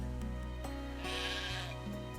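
Sheep bleating in the online board game Catan, a short electronic bleat heard alone over a steady tonal music bed.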